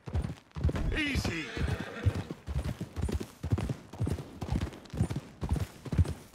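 Horses walking along a forest trail in Red Dead Redemption 2, a steady clip-clop of hooves with an occasional whinny, heard under continuous talk across the whole stretch.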